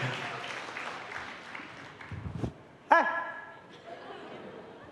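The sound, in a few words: applause in church congregation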